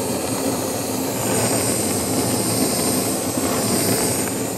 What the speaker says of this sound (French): Répartissez bien la flamme pour pas brûler certains endroits plus que d'autres.